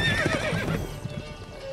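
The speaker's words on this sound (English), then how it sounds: "Whoa there, Roach." A horse in The Witcher 3 video game whinnies loudly over hoof clatter, close and brief, then settles to a quieter background with no talk.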